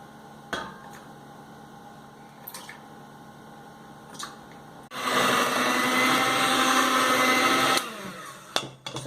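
A blender mixes wet cupcake ingredients, including vanilla and milk, for a large cupcake. It runs loud and steady for about three seconds midway, with a few clicks and knocks before and after.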